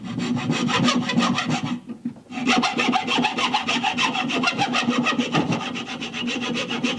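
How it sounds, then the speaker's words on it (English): A hacksaw cuts a slot across the end of a home-made dart held in a vise. Steady, rhythmic back-and-forth rasping strokes sound loud and close, with a brief pause near two seconds before the sawing resumes. "here is where the hacksaw comes in, because if you line it up across the end and start cutting, go right through the middle"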